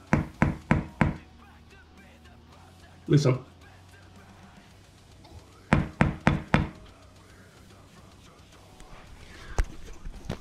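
A Tama Speed Cobra bass drum pedal fitted with an ACD Unlimited direct-drive conversion is played in short bursts of quick, close knocking beats separated by pauses, with a voice speaking briefly.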